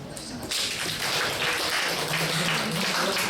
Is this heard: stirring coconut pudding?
no